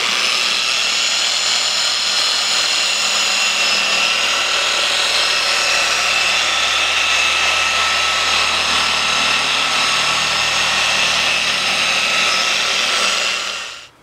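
Harbor Freight Chicago Electric dual action polisher spreading a coat of wax on a car's paint, a loud steady motor hum and whir that runs continuously for about fourteen seconds and then winds down, with no talking.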